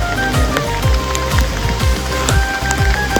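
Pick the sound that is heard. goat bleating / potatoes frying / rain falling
rain falling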